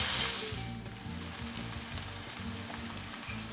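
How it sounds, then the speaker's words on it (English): Onions frying with cumin in a pan, a steady close sizzle with occasional stirring, no talking. "So get the onions going, and we're going to keep moving it around and frying until the moisture from the onions is all gone."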